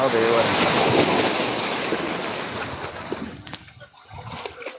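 Sea waves wash onto the shore in a loud, steady roar with strong wind buffeting the microphone, the surf gradually easing and thinning toward the end.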